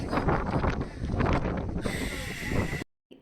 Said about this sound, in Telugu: అక్కడ గాలి సౌండ్ చూసారు ఎట్లా వస్తుందో మనకి